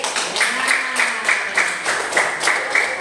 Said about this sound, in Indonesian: Tepuk tangan untuk kelompok pelatih